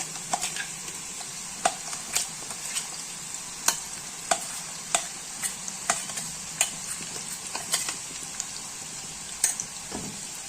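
Ground garlic paste sautéing in oil for a homemade garlic pickle, a steady broadband sizzle with regular stirring scrapes and taps recurring every second or so, close and moderately loud, with no speech.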